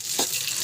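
Onions, peanuts, green chillies and ivy gourd frying in hot oil, a brief loud, steady sizzle with a faint stirring scrape.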